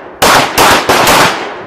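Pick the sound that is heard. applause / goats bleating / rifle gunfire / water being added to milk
rifle gunfire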